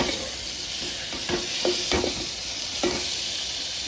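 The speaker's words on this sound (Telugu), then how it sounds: "నేనైతే సాల్ట్ వేసి బాగానే వేపుతున్నాను." Ivy gourd (dondakaya) frying with salt in a kadai gives a steady close hiss and sizzle, with a few soft stirring scrapes spaced through it and no talking.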